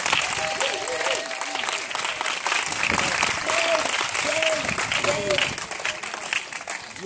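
A church congregation applauds and cheers for Jesus Christ with steady sustained clapping and crowd noise, while voices carry over the top of it.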